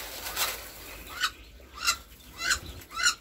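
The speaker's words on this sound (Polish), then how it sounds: "Tu kaczki strasznie rosną." Ducks give several short honking quacks, spaced about half a second apart and fairly close, over a quiet background.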